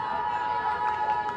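The Australian team cheers from the sideline at a women's under-23 ultimate frisbee semifinal against the USA, a moderate crowd of voices shouting and whooping, fairly distant, with some talk mixed in.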